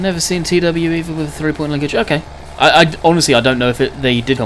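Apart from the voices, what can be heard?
None of the usual background noises is heard.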